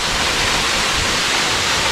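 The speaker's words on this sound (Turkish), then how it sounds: "Uçan Su Şelalesi'ymiş burası." Uçansu waterfall, also called Kral Havuzu, pours with a steady, broad roar of rushing water that stays constant and loud throughout, with no voices over it.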